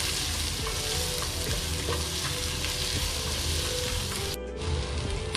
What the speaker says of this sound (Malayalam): ഈ ചെറിയുള്ളി ഒന്ന് വഴന്ന് വരാൻ ഇത്തിരി ടൈം എടുക്കും,